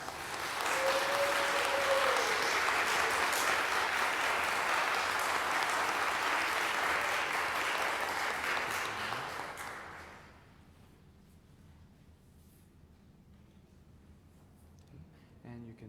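Church congregation applauding to welcome new communicants during a worship service, a loud sustained roll of clapping lasting about ten seconds before cutting off to near silence.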